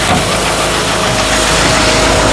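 A seed tender's engine runs steadily, driving an auger while loading wheat into a no-till drill on a farm, a loud constant close-up drone with a broadband mechanical rush and no talking.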